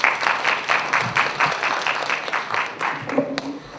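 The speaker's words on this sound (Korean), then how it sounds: "박수 부탁드립니다" Audience applause at a Gyeonggi Province social services training session, a steady wash of clapping from a seated crowd that fades slightly toward the end, with a few voices mixed in.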